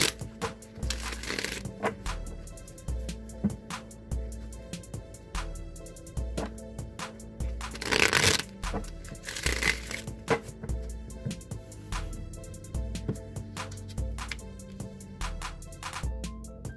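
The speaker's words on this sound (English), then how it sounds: "So I'll give this deck a few shuffles" Repeated riffling and shuffling of a card deck, crisp flutters in bursts with soft taps between, close and moderately loud, no voices.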